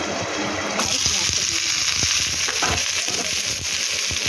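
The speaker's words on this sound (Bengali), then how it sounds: "এখানে আমি পেঁয়াজ বেরেস্তাটা ভেজে নেবো। এর মধ্যে ঘি দিয়ে দিয়েছি।" Sliced onions fry in hot ghee for birista, a loud, steady sizzle with occasional stirring clicks throughout.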